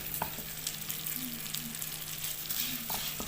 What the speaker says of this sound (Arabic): وهنا بقى في نفس الزيت اللي كان فيه البصله هحط شعريه